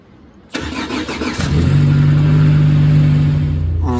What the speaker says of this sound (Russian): Давайте послушаем, как заводится УАЗик с холодного запуска.